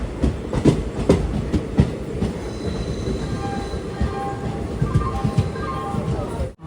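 A train pulls into Kollam Junction station in Kerala with rhythmic wheel clatter over rail joints and thin squealing brake tones, while faint voices murmur on the platform.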